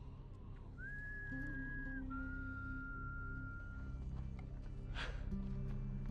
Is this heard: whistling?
yes